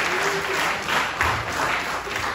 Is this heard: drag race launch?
no